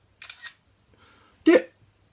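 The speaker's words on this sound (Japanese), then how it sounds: "ちょうどいいなというところでシャッターを切ります" A camera shutter is released close up: a soft double click comes first, then a single sharper, louder mechanical snap, with no talking.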